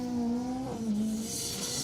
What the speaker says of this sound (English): he's having to send the car in and just getting it loose into that triangle